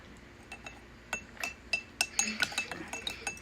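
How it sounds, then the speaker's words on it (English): A spoon stirs a slime mixture in a container, making a quickening series of small clinks and taps against the sides, quiet at first and growing busier. "Stir it up until you see no more."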